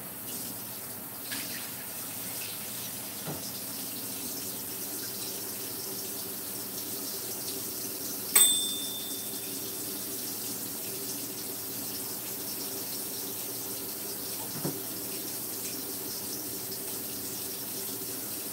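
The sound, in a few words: hot water running from a kitchen tap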